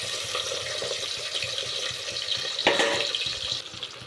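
Tomatoes and green chilies drop into hot sesame and coconut oil for tomato rice, giving a steady crackling sizzle that swells in a sudden burst partway through, then settles, with no talk.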